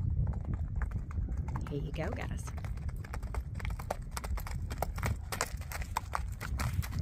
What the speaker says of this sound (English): If you like one of those perfect lead, slow, quarter horse-like canters on a gaited horse